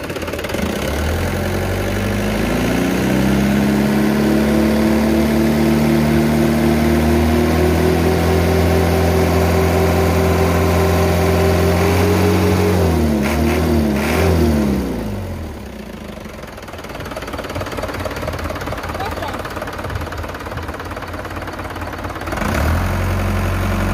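Loud, steady engine idle from a 2000 Ragasa rated at 120 PS, close up, its rumbling note wavering briefly before dropping and settling to a rougher, quieter idle, with no talking.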